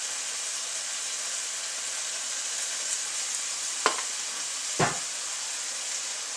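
Ground hamburger meat browning in a pan with black pepper gives a steady, quiet sizzle, broken by two sharp scraping stirs near the end; no one talks.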